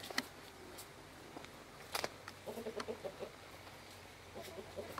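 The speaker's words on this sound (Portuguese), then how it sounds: "eu vou virar aqui, mostrar o galo." Soft, quick clucks from a rooster come in a short run amid outdoor rustling and a few sharp knocks, fairly faint and close by, on a small farm.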